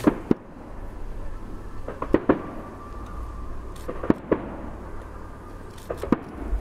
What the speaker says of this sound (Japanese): これより海上花火になる模様です。